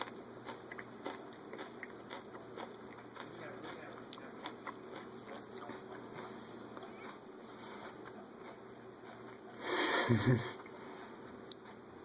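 Someone chews food close to the mic in soft, irregular bites and wet mouth sounds, with sniffs and one louder crunchy burst near the end, and no speech.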